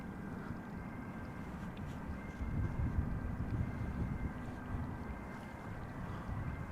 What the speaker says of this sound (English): This is KLM flight 1352, Embraer 175, returning from the Czech Republic, from Prague.